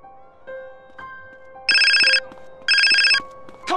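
A cellphone rings in GTA San Andreas, two bursts of a bright trilling ringtone over soft in-game ambient tones and music notes, loud and close with a pause between rings.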